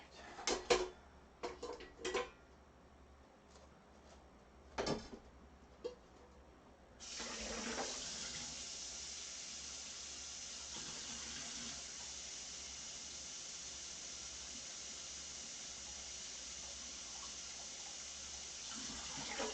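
Cold water from a kitchen sink tap runs into a cooking pot: a few clinks and knocks first, then a steady, continuous gush of running water that lasts to the end, close by with no talking.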